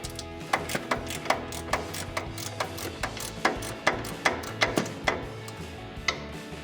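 A socket wrench ratchets on a coil-over strut bolt of a Toyota Tacoma, giving a close series of sharp metallic clicks in an uneven rhythm, each burst separate, with no talk.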